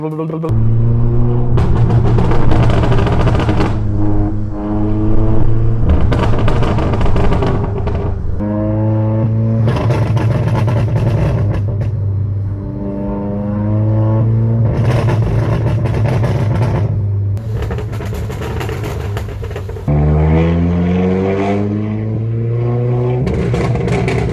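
A VW MK7 GTI running a Unitronic stage 2 tune is revved again and again, each loud rev falling away into sharp crackling pops from the exhaust on overrun, heard close and without talk.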